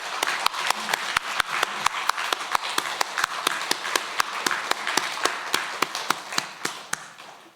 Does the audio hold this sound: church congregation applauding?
yes